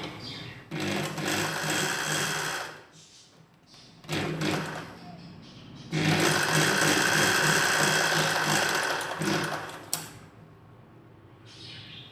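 A sewing machine stitches the back neck of a nighty in several bursts, loud close whirring runs separated by short quiet pauses, with no talk.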